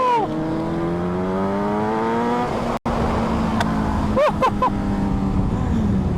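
A loud engine idles and revs up repeatedly, pitch climbing with each throttle blip, close by, with a short cut in the middle.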